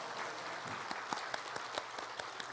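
Church congregation clapping during a Sunday service, a steady wash of applause with sharper individual claps standing out, moderately quiet and heard without talk.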